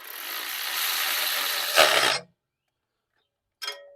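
A ratchet drives 7/16 bolts down on the fuel injectors of a 1990 Ford F150 with the 4.9L 300 engine: a rapid, close clicking run for about two seconds, a pause of silence, then a brief burst of further clicks.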